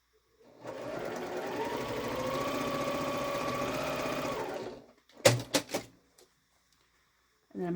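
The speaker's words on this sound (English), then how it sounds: "We're going to sew from here to here and then trim and press." Sewing machine stitching quilt block fabric runs steadily for about four seconds in a close, even mechanical hum. A few sharp knocks and clicks follow after it stops.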